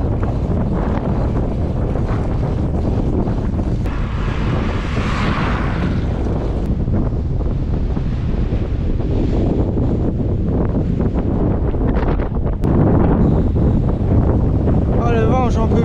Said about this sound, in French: Oh le vent, j'en peux plus. Vent de face.